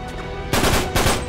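M9 pistol gunfire in the video game Uncharted 3, two sharp bursts of shots about half a second apart over steady game ambience, loud and close.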